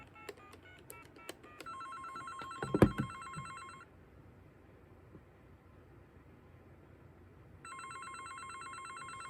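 A telephone on a custom TDM switch built with Dialogic voice boards rings from a forwarded call, giving two electronic ringing bursts separated by a quiet gap after some clicks and a thump.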